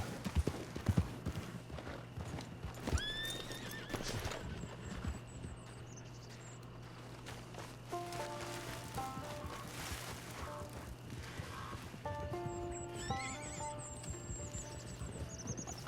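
Horse hooves clip-clop steadily while a horse whinnies now and then in Red Dead Online, over a constant low hum and scattered game-like chimes.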